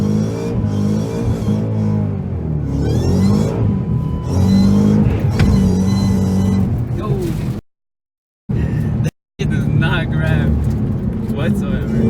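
Shelby GT500 on Weld wheels and Mickey Thompson drag radials doing a test launch: a loud engine revs and pulls hard, with harmonic whine rising, two brief cutouts near the end, and people talking over it.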